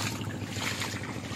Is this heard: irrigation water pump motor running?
yes